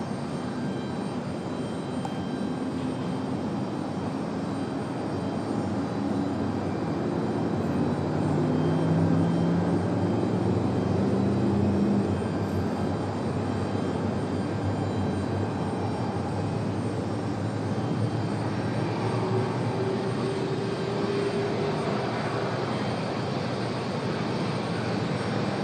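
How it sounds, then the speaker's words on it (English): A Southwest airliner takes off from runway 23 left at Raleigh-Durham International, a steady roaring jet-engine rush heard from a distance, with a rising and falling engine whine and no talk. "Southwest 3431, turn left heading 210, runway 23 left, you're clear for takeoff."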